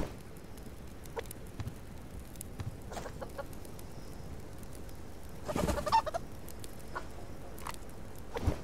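A chicken in the survival game Subsistence clucks in short scattered bursts over a quiet ambient background, with one louder flurry near the middle and no talking.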